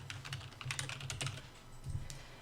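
Rapid keystrokes on a computer keyboard, typed in a short burst of irregular clicks with brief pauses, close and clear over a faint low hum.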